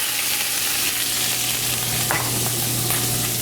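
Peppers frying in rice bran oil in a restaurant wok while making japchae, a steady dense sizzle with a low hum underneath and a few brief scraping stirs, close and continuous with no talking.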